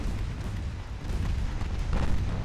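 Naval gunfire in the video game Ultimate Admiral Dreadnoughts, a continuous rumbling barrage of deep distant booms rolling into one another with no clear pauses.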